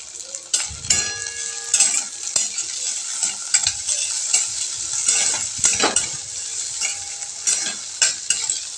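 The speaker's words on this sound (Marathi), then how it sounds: "छान असं परतून घ्यायचं आहे आपल्याला बटाटे तेलामध्ये" Potatoes sautéing in hot oil in a pan for a fasting-day potato bhaji, a continuous bright sizzle with frequent scraping stirs and metallic spatula clinks, close and fairly loud with no talking.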